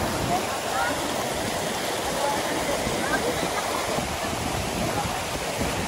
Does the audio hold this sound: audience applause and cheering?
no